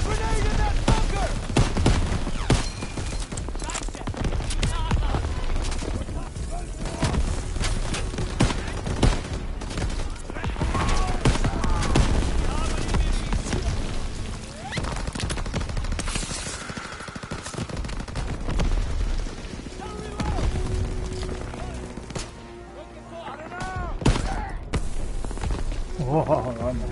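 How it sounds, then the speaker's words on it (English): Gunfire and grenade blasts from a PS4 war video game: dense bursts of rapid automatic fire and sharp shots with occasional heavier booms, steady and loud throughout, with voices shouting over the battle. "Daniel, get a grenade in that bunker!"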